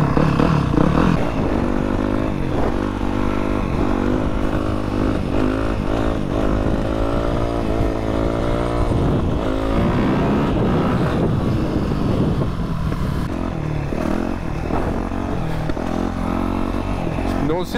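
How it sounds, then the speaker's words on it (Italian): A motorcycle engine starts and idles steadily at close range, a low continuous drone with some revving, while people talk over it throughout. "Accendi la moto."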